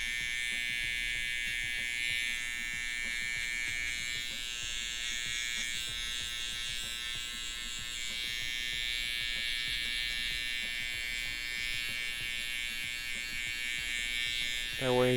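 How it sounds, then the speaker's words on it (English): Electric hair trimmer fitted with a tighter guard, buzzing steadily and close for the whole stretch as it touches up a fade near the base and ears, then switching off at the end. "Go in with a tighter guard, which is the trimmer."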